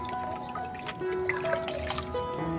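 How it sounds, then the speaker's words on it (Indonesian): Liquid fertilizer is poured over a potted Cattleya orchid, trickling and dribbling steadily and close with a few small drips, and no voices. "Kita siapkan dulu pupuknya, disiram aja cukup ataupun direndam seperti ini"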